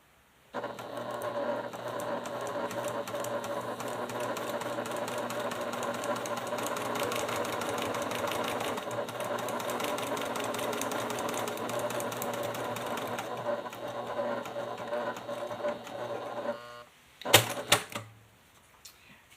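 A sewing machine stitches through a quilted leather clutch backed with memory foam, running in one steady, close mechanical whir for about sixteen seconds before stopping, followed by a few brief clicks and handling knocks.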